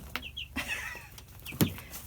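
Young chicks on moving day, giving a few soft clucks and short chirps close by, scattered over a faint background hum with no talking.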